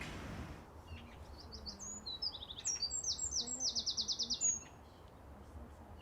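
A blackbird sings outdoors by a tree on a hillside in Bristol, a rising sequence of clear chirps that speeds into a rapid rattling trill before stopping, over a steady wind-like background hiss.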